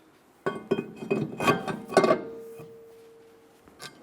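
Rear brake rotor screws clink and tap against metal as they are lined up and fitted on a 2013-2017 Honda Accord, a run of sharp close clicks followed by a faint lingering ring.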